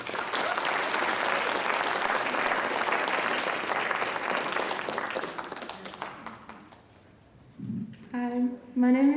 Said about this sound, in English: please give a round of applause to Cassie Stringer